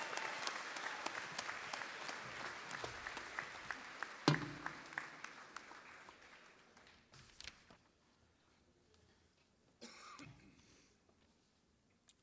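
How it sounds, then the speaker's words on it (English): A modest crowd claps steadily for several seconds, the applause thinning and fading, followed by a cough or throat clearing in a quiet room. "Give him a large round of applause."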